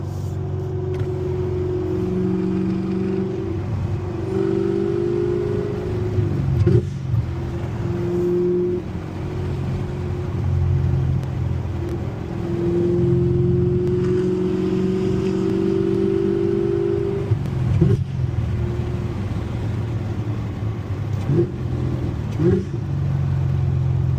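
A Camaro ZL1 1LE engine idles and rumbles low through its exhaust, rising in a few revs, with steady road noise throughout.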